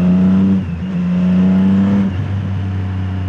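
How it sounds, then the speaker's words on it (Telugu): A Triumph Street Triple motorcycle fitted with an SC Project exhaust revs close up in Hyderabad traffic, a loud steady engine drone rising in pitch and then dropping back over about three seconds. "ఓన్లీ రెవ్ ఇవ్వాలి."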